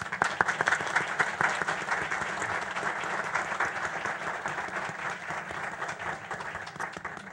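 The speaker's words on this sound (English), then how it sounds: "A round of applause, please." Sustained applause from an audience at a Williamson County school board meeting, steady dense clapping for several seconds with no talk over it.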